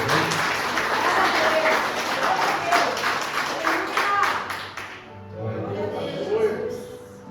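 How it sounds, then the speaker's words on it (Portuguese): A church congregation applauds after a sermon, sustained clapping from many hands filling the room, then fading as a voice speaks over the thinning applause. "se você puder e quiser aplaudir ao Senhor por essa palavra"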